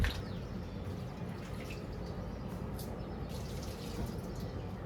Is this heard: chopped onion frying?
no